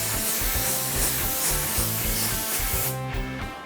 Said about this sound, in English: I'm going to spray this out because I need to determine a couple of things.